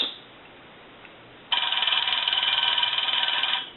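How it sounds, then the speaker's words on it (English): A 233G three-slot payphone's bell rings muffled and damped, a buzzy rattle that starts suddenly, holds steady for about two seconds and then cuts off, with no voices over it. "It's not really ringing per se. It's just kind of tapping the bell, and it's squelched out."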